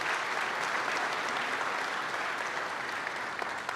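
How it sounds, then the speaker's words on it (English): Sustained audience applause fills a hall at a flight simulation expo award ceremony, dense and steady throughout with no pauses. "we'll give one more round of applause"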